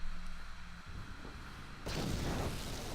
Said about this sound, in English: Things indeed exploded behind me.